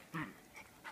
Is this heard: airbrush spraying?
no